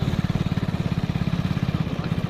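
A motorcycle engine putters along with a steady, rapid low thumping rhythm, close and continuous throughout.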